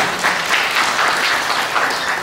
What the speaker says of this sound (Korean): 여러분, 힘찬 박수와 함께 아버님을 모셔보겠습니다